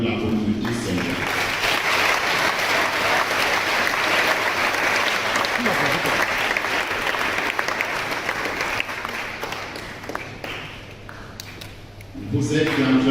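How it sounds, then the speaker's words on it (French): Young people at a closing Mass of a eucharistic weekend clap and cheer in a loud, sustained burst of applause, with crowd voices mixed in before it tapers and a voice returns at the end. "je voudrais demander à cette jeunesse d'applaudir et d'acclamer pour la communauté Saint-Jean"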